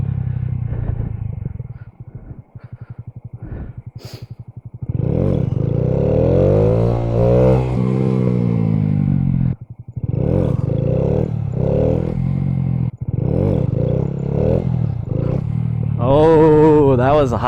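A 2015 Honda Grom engine revving hard during clutch-up wheelies, bursts of rising revs broken by pauses and idle, close and loud, ending in a high-pitched rev, with a few voice sounds between.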